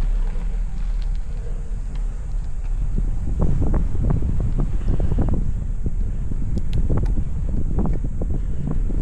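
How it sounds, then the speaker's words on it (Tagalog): Strong wind roars steadily into the microphone outdoors, a loud continuous rumbling buffet with gusty surges and no clear voices. "Lakas ng hangin"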